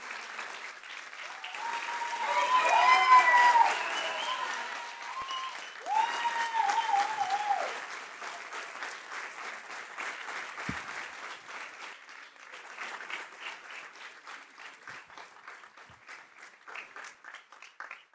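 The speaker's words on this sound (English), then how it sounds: "Another round of applause." A large audience at a council swearing-in ceremony breaks into long applause after a speech, swelling loud early with some cheering voices, then thinning to scattered steady clapping that lasts well over fifteen seconds.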